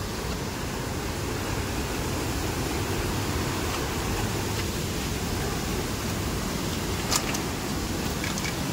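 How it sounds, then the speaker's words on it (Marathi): Floodwater pouring over the top of a small village dam in heavy Konkan monsoon rain, a loud, unbroken roar of rushing water throughout. "पूर्ण वरून बंधाऱ्याच्या वरून पाणी जातं."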